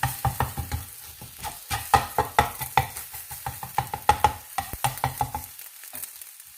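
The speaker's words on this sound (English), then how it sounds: "World's quickest scrambled egg." Egg scrambling in a hot frying pan, a close steady sizzle broken by rapid rhythmic scrapes and taps of a utensil stirring, trailing off into quiet at the end.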